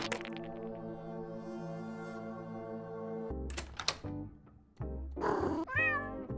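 Cat meowing in the video game JudgeSim: a long drawn-out meow up front followed by several shorter, sharper cries and a squeaky call, close and clear with a low hum underneath.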